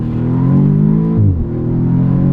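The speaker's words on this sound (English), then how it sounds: "So nice sort of like pop from the exhaust on gear changes, which is fabulous to hear." A 2017 Audi S3 driving with its engine droning steadily close by, pitch dropping sharply midway through a gear change with a brief burble from the exhaust.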